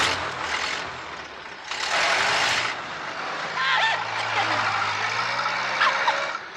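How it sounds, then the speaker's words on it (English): A truck speeds away into the night, heard as engine rumble and whooshing passes layered with music and sound effects, dramatic and fairly loud throughout. "soon the truck was speeding away into the night"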